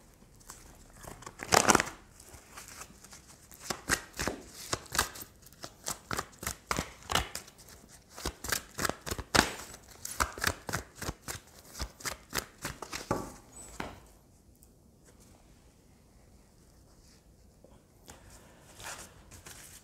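Amethyst oracle cards shuffled by hand, giving a long run of quick, crisp riffling and snapping bursts, close and fairly loud, that fade into a few scattered soft taps near the end, with no talking.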